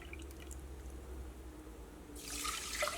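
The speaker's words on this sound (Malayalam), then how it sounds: "ഫസ്റ്റ് നമുക്ക് 1 കപ്പ് വെള്ളം ചേർക്കാം" Water is poured from a cup into a pot of rice, a soft trickle and splash rising toward the end, faint and close with no voices.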